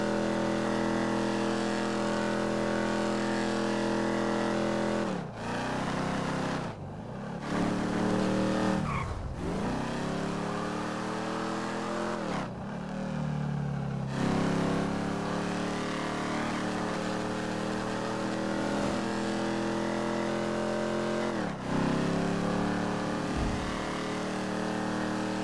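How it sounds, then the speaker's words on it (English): A car engine in GTA 5 revs hard and holds high, droning, with repeated sharp drops and climbs as gears shift during a high-speed pursuit, loud and continuous with almost no talk. "This car does sound good though"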